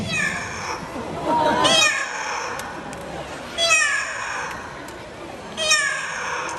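An Amazon parrot imitates a cat, letting out three drawn-out, rising-and-falling meows separated by short pauses.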